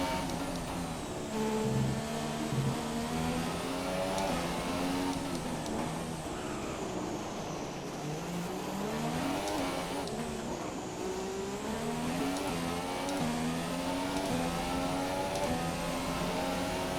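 Formula 1 car engines in the F1 2017 racing game at Monaco, several cars' high-pitched revving loud and continuous, pitch rising and falling through gear changes and braking into a chicane.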